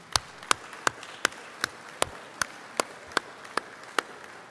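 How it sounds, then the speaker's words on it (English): Panel audience clapping at a conference session, heard as sparse, sharp individual claps landing at a slow, even pace, about a dozen distinct hits over a quiet background rather than a full ovation. "give them a round of applause"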